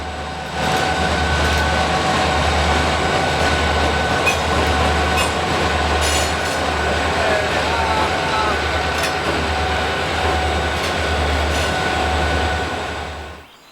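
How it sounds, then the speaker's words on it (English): A mainline freight train led by a pair of SD40 locomotives, working hard, rumbles steadily past at close range, with a deep pulsing engine drone and continuous wheel and car noise throughout before fading at the end. "another mainline train came along, with a pair of SD40s at the front end, working hard"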